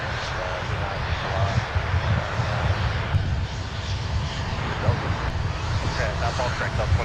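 Airliner jet engines roar at Minneapolis–Saint Paul airport, a steady broad rumble that stays level and fills the whole stretch, with faint radio chatter underneath.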